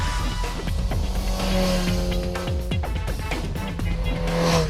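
A Suzuki GSX-R 1000 motorcycle at full speed gives a sustained loud engine roar with shifting pitch and rising and falling revs, and a voice talks faintly underneath.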